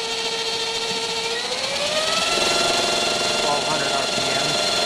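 A CCM9112 machine spins up with a steady whine that climbs in pitch over the first two seconds, then holds at full speed as a loud, continuous drone.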